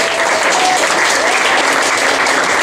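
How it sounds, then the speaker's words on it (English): Dense, steady applause from a comedy club audience between stand-up sets, loud and close, filling the whole stretch without letting up. "Let's give a big round of applause."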